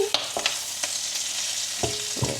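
An egg fries in hot, spitting oil with a loud, continuous close sizzle, broken by a few sharp scraping knocks from a utensil against the pan. No voices.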